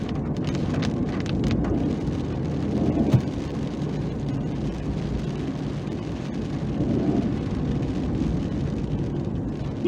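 Heavy rain pours steadily across the rocky outlook of Nandi Hills in a dense, continuous hiss, with a faint low rumble and occasional nearby taps.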